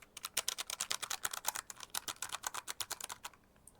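Rapid typing on a 75% tenkeyless computer keyboard without a number pad, from a budget Corsair gaming set, a fairly quiet board. Dense, steady clicks run for nearly four seconds, close and moderately soft, with no talk.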